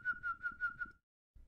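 Someone whistles a steady single pitch in a quick run of five pulsing bursts, then stops into silence before a faint low rustle returns.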